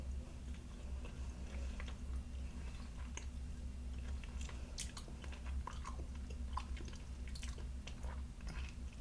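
Close, steady chewing of a chewy fruit candy, with soft squishy bites and small wet clicks repeating throughout, quiet and intimate with no talking.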